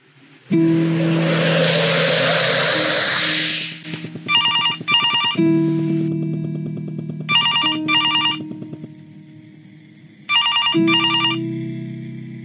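A telephone rings in short doubled electronic trills, repeated three times at regular intervals, heard over a loud droning whoosh and hum.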